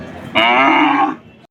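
A Kangeyam breed cow at a crowded cattle market gives one loud, close moo lasting under a second, tapering off into quieter background noise.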